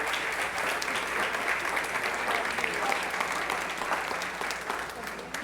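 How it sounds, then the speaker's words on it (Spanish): Steady applause from a church congregation at a Sunday service, a dense, continuous wash of many hands clapping that holds evenly loud throughout, with faint voices mixed underneath. "Un aplauso bien grande."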